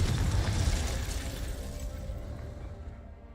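A Confringo blasting spell going off in Hogwarts Legacy: a heavy, booming explosion with crackling debris that fades away over a few seconds, heard alone.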